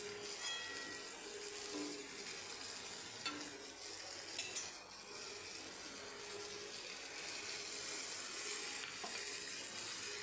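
Vegetables with turmeric and salt hit hot oil in a pan for a gadal-leaf vegetable curry, giving a steady, bright, fairly quiet sizzle that holds for the whole stretch with a few faint stirring scrapes and no voices.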